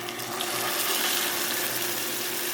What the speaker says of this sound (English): Then I'm going to take my steak, and I'm going to lay it in the pan,